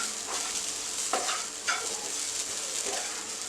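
Grated coconut roasting in a dry-frying pan, stirred with a few scraping strokes over a soft continuous crackle, close and moderately loud with no talking.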